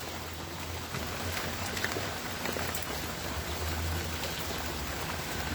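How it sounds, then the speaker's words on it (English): Heavy rain pours outside in a dense, continuous hiss with scattered drop patter, steady and fairly loud throughout with no talking. "It's pouring down rain."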